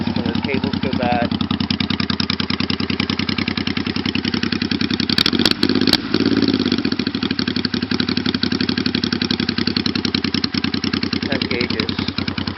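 Honda Shadow VT500 bobber with mechanical chokes, cold engine idling through its exhaust, a loud close rhythmic thumping pulse held steady, with a brief clatter midway.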